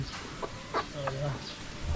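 Chickens clucking in short, scattered calls close by, with a few faint higher chirps over a steady outdoor background hum.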